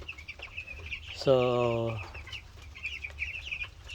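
Chickens and young chicks in a brood pen: one loud, drawn-out cluck rises over a steady wash of high, faint peeping from the chicks, with a brief word from a nearby voice.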